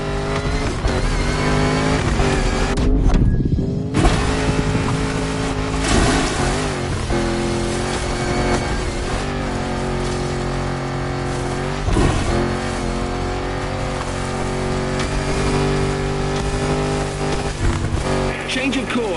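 A classic British car, about 70 years old with 400 horsepower, revs its engine in The Crew Motorfest: a steady loud drone rises and falls in pitch with throttle changes, and a voice talks over it.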